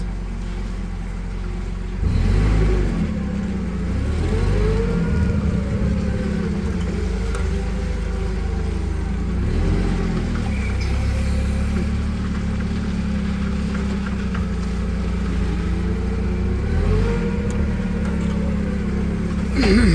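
A 2022 Toyota 02-8FGL25 gas/petrol forklift drives forward after the brake is released, its engine a steady loud low drone that swells slightly as it moves, close by.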